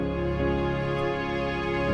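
Sustained string parts layered into a dense pop song arrangement in a writing session, with held chords over steady low drums, continuous and full throughout.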